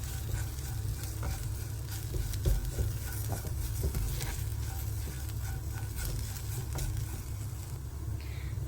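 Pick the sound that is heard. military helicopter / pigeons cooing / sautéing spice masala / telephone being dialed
sautéing spice masala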